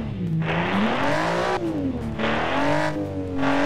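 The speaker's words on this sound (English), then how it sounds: "it definitely sounds like a proper light sports car engine" A light sports car engine in BeamNG revs up and down in smooth repeated swells, loud and close, with a steady buzzy drone and no voices.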